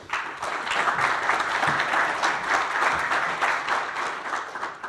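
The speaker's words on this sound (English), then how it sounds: "So big applause for both of them." Steady, dense audience applause fills a plenary session hall at a European big data forum, sustained clapping from a large crowd at even loudness throughout, with no talk over it.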